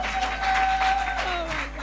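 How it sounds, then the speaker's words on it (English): Audience applause at a talk on culture and strategy, a fairly loud wash of clapping and crowd noise with a steady tone running beneath it, brief and without speech. "Please, a round of applause again"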